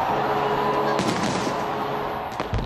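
New Year's fireworks over New Zealand crackle and pop in dense, rapid bursts, with a sharp loud blast partway through and a rumbling crowd-like wash underneath.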